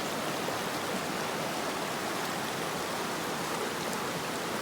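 A creek in the Great Smoky Mountains flows and babbles in a steady, even hiss, close by and unbroken for the whole stretch, with no talking.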